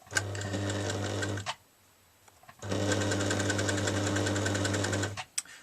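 A sewing machine straight-stitches a denim seam on jeans being made into a tote bag, running in a loud, fast, even mechanical chatter for about a second and a half, pausing, then running again for several seconds.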